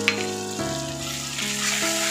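Ginger garlic paste sizzles and fries in a pan with onion and tomato, a soft steady crackle, close and fairly quiet, with a light clink of a utensil at the start.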